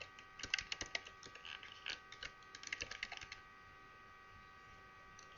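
Keys tapped on a computer keyboard while an email address is entered, a quick, uneven run of light clicks that bunches into bursts and then stops, close by and fairly quiet, with no one talking.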